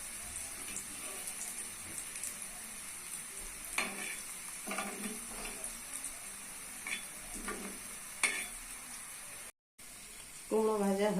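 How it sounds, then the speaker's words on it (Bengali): Pumpkin slices sizzle in a pan over low heat, with a steady frying hiss and several crisp spatula scrapes. The sound cuts out briefly, and a voice starts speaking at the very end. "এটা হালকা আঁচেই ভাজতে হবে।"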